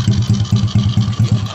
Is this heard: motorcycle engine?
yes